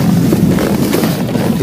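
Loud, blustery wind buffeting the microphone on a frosty, sunny day by the Kama river, a low rumbling roar that persists through the whole short stretch.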